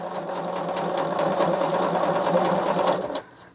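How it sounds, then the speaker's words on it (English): A sewing machine runs steadily for about three seconds, stitching a quilt strip onto foundation paper, a close continuous mechanical whir that stops abruptly. "And sew at 1/4 of an inch"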